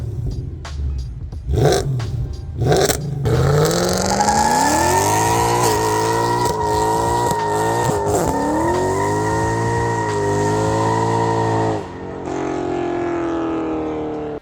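Mercedes E63 AMG with long tube headers, an off-road X-pipe and a tune roars close by, with sharp engine blips giving way to a long rising acceleration through the gears, loud and alone.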